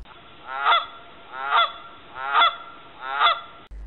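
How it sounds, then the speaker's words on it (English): Four evenly spaced honks from a Canada goose, each a clear, resonant nasal call, close and isolated against a quiet background. "Canada goose."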